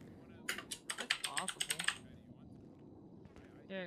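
Rapid clattering keystrokes on an American computer keyboard, a quick burst of about a dozen close clicks followed by a pause and a few more taps.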